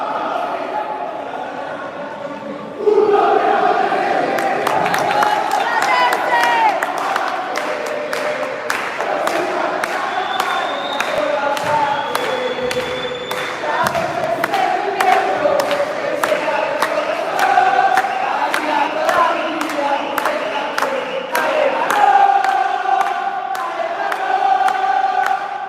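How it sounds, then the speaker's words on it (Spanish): Spectators at a Primera B futsal match between Platense and Nueva Estrella applaud and cheer their Nueva Estrella players, a steady crowd roar with scattered sharp claps and shouts running throughout. "La gente del Nueva aplaude a sus jugadores"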